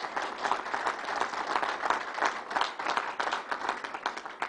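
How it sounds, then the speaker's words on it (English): An outdoor crowd at a Belmont Park announcement gives a round of applause for Jeff Wilpon, a fairly faint, steady patter of many hands clapping without speech. "Let's give Jeff Wilpon a big round of applause."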